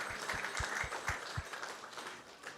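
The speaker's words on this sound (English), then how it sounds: "So let's give her a big round of applause." A temple audience at a devotional gathering gives a short round of applause, faint and somewhat distant, with scattered claps and a few thumping beats underneath, thinning out toward the end.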